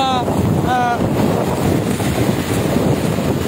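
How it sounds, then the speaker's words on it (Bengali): Strong Cyclone Remal wind roars and buffets the microphone continuously amid rain, a harsh, loud gusting storm with a brief whistling tone near the start. "প্রচণ্ড আসলে বাতাস বইছে এবং পাশাপাশি আসলে বৃষ্টি অব্যাহত রয়েছে"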